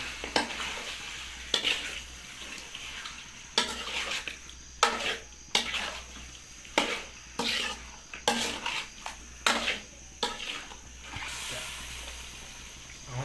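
Chicken stir-fried with salt in a pan, a steady sizzle broken by repeated scraping and clinking strokes of a spatula against the pan, close and even throughout.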